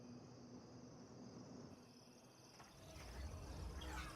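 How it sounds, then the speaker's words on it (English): Crickets chirp in a nighttime scene of a video game, a thin, steady high trill over a quiet background, with a low rumble rising in the last second. "I can't remember the last time I heard crickets in real life."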